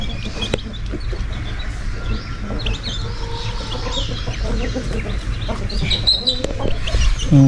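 Chickens cluck and murmur continuously at a moderate distance over a constant low background hum, with no one speaking.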